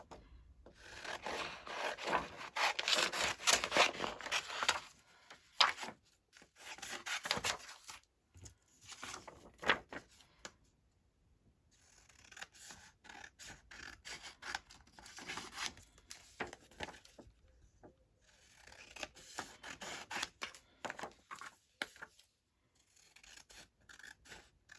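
Scissors snipping and rustling through paper while cutting out small ephemera pieces for a junk journal, in repeated close bursts of crisp cuts and handling with brief pauses between, no talking.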